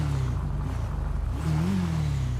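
A Hayabusa motorbike engine in GTA V hums at a steady low pitch, then rises briefly in a rev before settling back, loud and close with no talk.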